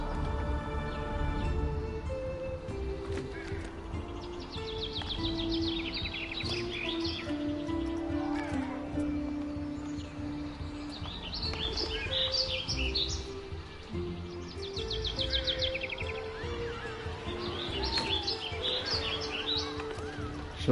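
Birds tweet and chirp in bursts across a Planet Coaster 2 theme park scene, bright repeated calls sitting over steady background music throughout.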